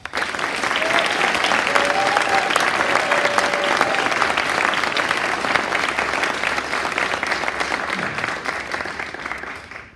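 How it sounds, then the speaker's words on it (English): Audience at a middle school graduation ceremony applauding, dense sustained clapping from a large crowd indoors that holds steady and then fades out. "So I think that's worth another round of applause."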